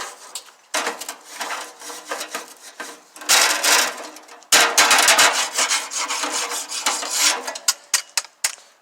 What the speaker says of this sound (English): So just go ahead and give them a quick little on the grill scrape,